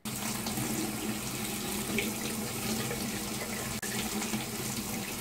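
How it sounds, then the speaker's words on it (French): Very hot tap water pours steadily from a faucet over a vape coil, a continuous close hiss and splash with one brief interruption and no talk. "vous la rincez à l'eau très chaude pendant quelques minutes"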